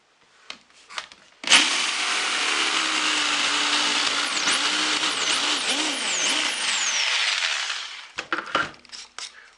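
A power drill whirs steadily for several seconds, close by, with its pitch wavering slightly, framed by a few clicks and knocks before and after.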